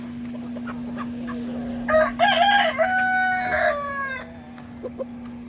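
On a free-range homestead flock, a rooster lets out a single full crow at close range, rising then sustained, with soft clucks and faint background noise before and after.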